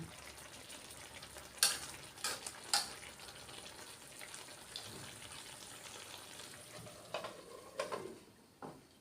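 Chicken stir-fried with red curry paste and soft eggplant sizzles steadily in a pan, with a few sharp scrape-and-clatter accents from stirring scattered through the clip.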